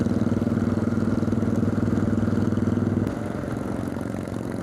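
A customized motorcycle idles nearby on a Gujarat highway stop, its engine giving a loud, steady, lumpy throb that drops slightly in level partway through, with no voices.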